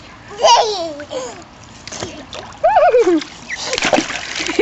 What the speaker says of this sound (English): Oh, that's a big splash.